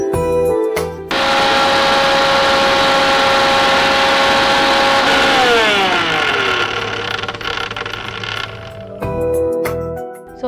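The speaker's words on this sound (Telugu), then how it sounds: "దీన్ని మిక్సీ పట్టేస్తాం." A kitchen mixer grinder whirs through soaked moong dal in a loud, continuous motor whine, its pitch sliding down midway as the load shifts, then cutting off with clicks near the end.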